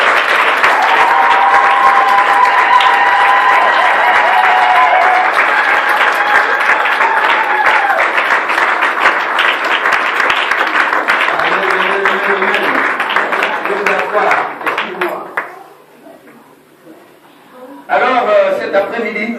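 A congregation at an evangelism campaign service in Brussels bursts into loud, sustained applause and acclamation mixed with voices, then tapers off into a brief lull before clapping rises again near the end.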